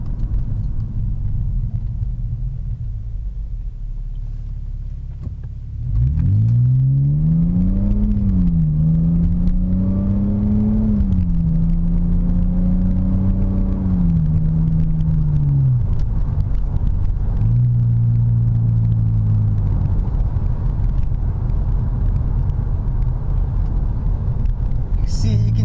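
A BMW E60 5 Series pulls away from a standstill with a low engine rumble that climbs in pitch as it speeds up. The tone dips at each gear shift and then rises again. Someone talks over the steady cabin drone.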